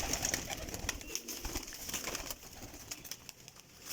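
Pigeons coo softly and repeatedly at a distance, with faint rustling and a brief flutter of wings in the background.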